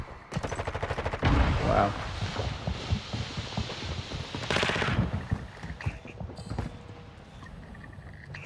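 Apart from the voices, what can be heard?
gunfire in a video game (Call of Duty)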